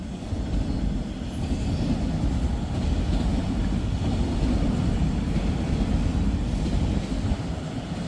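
A freight train rolls past on the westbound track, a steady, loud low rumble of wheels and cars that stays even throughout with no voices.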